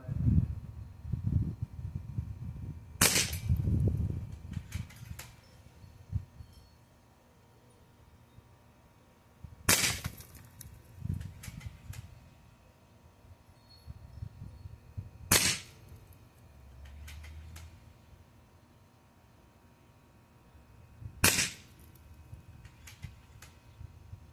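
Northtac Qlin bullpup PCP air rifle in 7.62 caliber firing slugs at an aluminum target, four sharp separate shots spread across the clip, each a loud crack with a short ring, with quiet handling and background noise between them.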